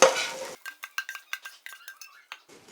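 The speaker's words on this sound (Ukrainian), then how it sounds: "А тепер так обсмажуємо." Spinach fries in an oiled pan, opening with a short burst of sizzling before a run of sharp, rhythmic utensil clinks and scrapes as it is stirred.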